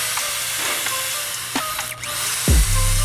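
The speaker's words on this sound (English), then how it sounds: "getting a drill bit just a tiny bit larger and basically making that hole just a little bit bigger" A power drill spins a bit to widen an existing hole slightly, giving a steady whirring hum with brief shifts in pitch and a sharp final change in tone near the end.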